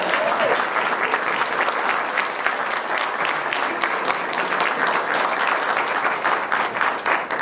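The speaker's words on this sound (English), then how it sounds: "Give her a round of applause" An audience applauds a volunteer called up to help with a wire at a humorous speech contest, with steady, dense clapping filling the room for the whole stretch without letting up.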